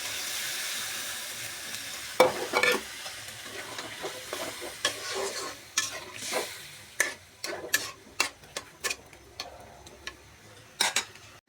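Small freshwater fish sizzle gently in a pan with pumpkin, while a utensil scrapes and taps the pan in irregular stirring strokes, quiet and close.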